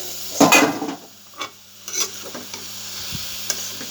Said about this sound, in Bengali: আস্তে আস্তে ভাজা ভাজা করে নেব